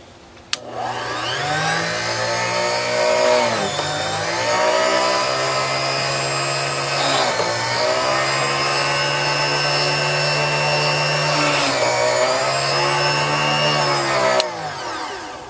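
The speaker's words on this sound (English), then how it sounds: "I'm over here at my little drill press, and I'm going to drill out a little entry hole for the blade" A drill press drilling an entry hole in wood gives a steady, loud motor whine with harmonic tones for most of the clip, dipping briefly twice as the bit bites and eases, then spinning down.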